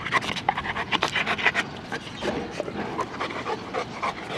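A puppy pants quickly and eagerly while playing, close by, its rapid breaths running in an uneven rhythm with some scuffling and no speech.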